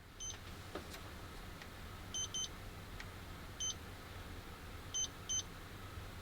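Short electronic beeps from an RC crawler transmitter marking center on its four-wheel-steer control, sounding as a lone chirp, then paired chirps, a single one and another pair, faint and high over a low steady background hum.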